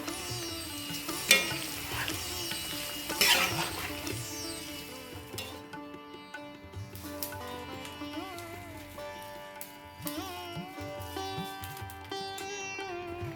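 Snack mixture ingredients frying in hot oil for homemade Indian mixture, soft sizzling under a prominent musical background, with occasional stirring clinks.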